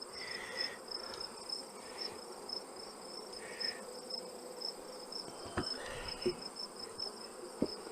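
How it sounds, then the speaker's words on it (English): Honey bees swarm and buzz around a resource nuc in winter, a steady insect drone with a high whine near and all around, plus a few brief knocks and handling clicks. "it's covered in bees on the front and on the bottom"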